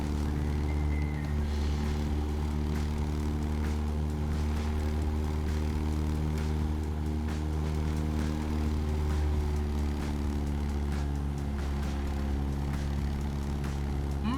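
A propeller aircraft engine droning steadily in a flight simulator during a low-altitude scenic group flight over Australia, a continuous loud hum with layered harmonic tones and no talk.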